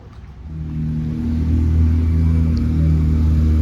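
A car drives down Gulf Shore Boulevard in Naples, Florida, with a steady low engine and road rumble that builds slightly and then holds at an even level throughout.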